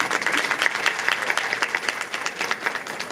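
Audience applause at a self-help group mega camp in Bijnor, dense continuous clapping from a crowd, fairly loud and steady with no talk.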